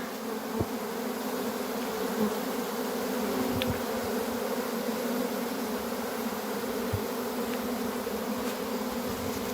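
Honeybees swarm out of a hive, making a dense, continuous buzzing drone that stays steady and fairly loud throughout, with a few individual bees passing close.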